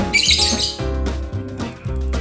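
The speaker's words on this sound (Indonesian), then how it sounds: "adalah burung lovebird." A lovebird gives loud, harsh squawks close by, a rapid run of raspy calls and chirps in short bursts.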